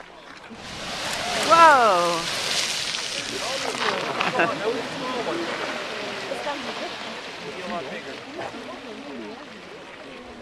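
Strokkur-style geyser erupting in Iceland with a sudden whooshing burst of water and steam, a rushing spray that fades over several seconds beneath an excited crowd cheering and talking nearby.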